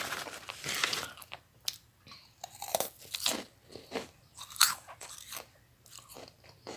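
Crunchy meringue cookies bitten and chewed close to the microphone: repeated crisp crunches and crackles in an irregular rhythm, fairly quiet with sharper bursts throughout.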